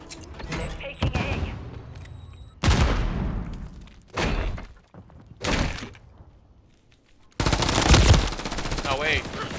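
Rapid automatic gunfire in a Call of Duty MW3 ranked multiplayer match comes in several loud bursts separated by short pauses, with heavy impacts and a long sustained burst near the end.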